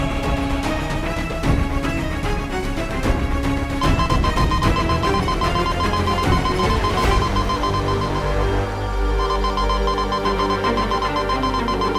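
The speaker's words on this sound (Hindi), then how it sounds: "ये तो वीर लोग का सिक्योरिटी अलार्म है।" A security alarm rings through a dense TV-show soundtrack, a steady repeating electronic tone over layered music and effects, loud and continuous for the whole stretch.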